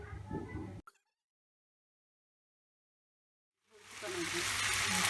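Spices for tempering hit hot oil in a pan of mushroom and capsicum curry, a loud broadband sizzle that starts abruptly and hisses steadily after a brief earlier burst and a pause of silence.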